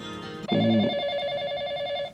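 A telephone rings with a steady electronic bell tone that starts abruptly and holds for over a second and a half, loud and close in a quiet indoor scene.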